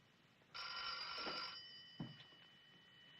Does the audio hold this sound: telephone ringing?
yes